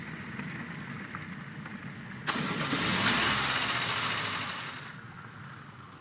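A car engine in the Roblox game Dusty Trip cranks and starts with a sharp catch, then roars up steadily and settles into a running hum before easing off; no talking.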